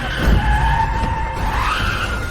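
A car skids to a stop on a rain-soaked road at night, a loud sustained tire squeal with a rising pitch near the end, close and alone.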